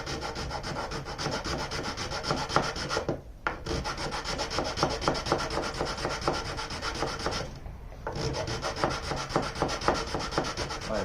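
Hand sanding on the wooden body of a mandocello to smooth out saw marks, a continuous close rhythmic rasping rub broken by two brief pauses, with no talking.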